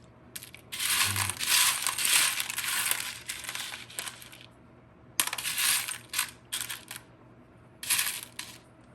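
Pieces of beach glass clink and rattle against each other while being sorted for a necklace, bursts of bright scraping clatter that come and go, close and fairly loud, with no talking.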